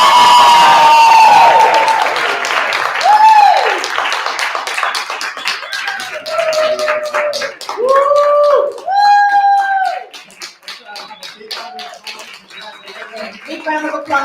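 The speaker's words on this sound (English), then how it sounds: "Big round of applause for our winners and all of our contestants." Audience applause and cheering for winners of a narrative monologue competition: steady clapping throughout with whoops and shouts rising over it, a voice speaking over the crowd, close and fairly loud.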